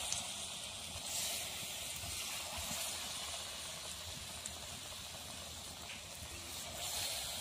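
Palm-fruit batter fritters sizzle steadily in hot oil in a kadai, a continuous dense frying hiss running close and even throughout with no talk over it.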